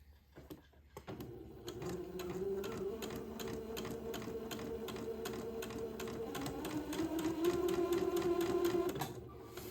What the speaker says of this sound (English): I'm going to sew this little hem of the inside facing in place